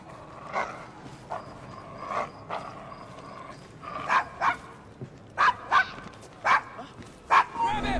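Dog in the video game Assassin's Creed Syndicate barking and yipping in short, repeated bursts that grow more frequent toward the end, moderately close, with a low background hum.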